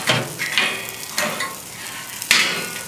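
Garlic is dropped into a hot pan, a close, bright sizzle that swells in a few short surges with soft stirring scrapes and a light pan knock, no speech over it.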